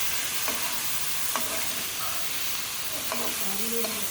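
A spatula stirs soy sauce through fried rice in a pan on high heat, a steady sizzle punctuated by a few brief scraping strokes against the pan.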